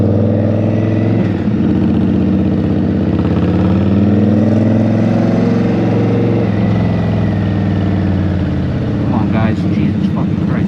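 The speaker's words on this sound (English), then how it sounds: "I look forward to revving out the bike and then just letting it coast" A cruiser motorcycle engine drones loudly and close throughout, revving then coasting, a deep layered rumble that holds steady with slight shifts in pitch.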